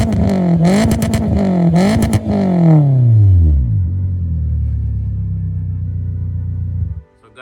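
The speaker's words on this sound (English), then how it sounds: "you will be able to know what this exhaust pipe sounds like" A Toyota Wish exhaust revs hard several times, rising and falling in pitch, then settles into a deep, steady idle rumble before cutting off.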